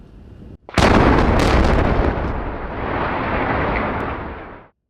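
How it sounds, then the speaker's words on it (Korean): Controlled demolition blast at the Ulsan thermal power plant accident site brings down two boiler towers at once: a sudden, very loud explosive boom, then a heavy, sustained rumble of collapsing structure that slowly fades. "거대한 폭발음과 함께 타워 2기가 한 번에 무너집니다"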